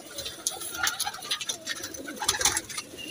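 Captain Teddy breed pigeons cooing close by, soft repeated coos and fluttery calls layered over a busy background murmur.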